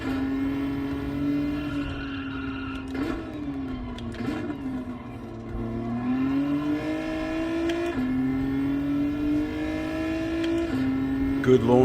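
Race car engines in a Bathurst Mount Panorama video game race drone at a steady, sustained pitch that rises and falls as the cars launch and accelerate, with talk running over the engine noise.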